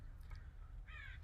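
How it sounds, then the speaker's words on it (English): Crows cawing outside, a couple of faint, distant harsh calls followed by one louder rasping caw, heard alone over a low background hum. "our soundtrack of crows, listen to that"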